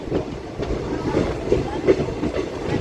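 A train departing Amguri junction on the single-line Guwahati–Ledo route, with soft rhythmic wheel clatter and a rolling rumble heard from inside the carriage.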